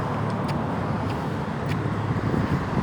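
Street traffic with loud car mufflers rumbles steadily nearby, a continuous low roar of passing cars with some wind noise buffeting the microphone.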